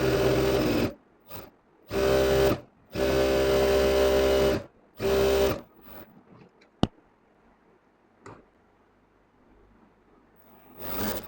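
Electric sewing machine stitching a round dress, four loud bursts of fast whirring stitches separated by short pauses, followed by quiet handling clicks and one sharp knock.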